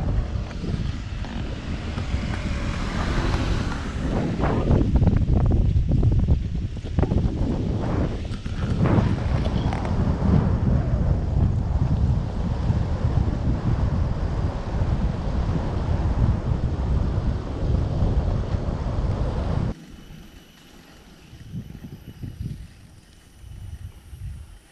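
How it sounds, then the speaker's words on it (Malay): Strong wind roars across the microphone in a continuous loud buffeting rush for about twenty seconds, then drops abruptly to a quieter, gustier background. "Angin kuat"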